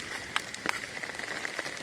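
Rain falls on a hilltop campsite in a faint, steady patter with a few soft distinct drops, no voices present.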